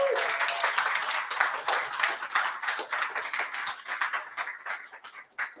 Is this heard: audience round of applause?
yes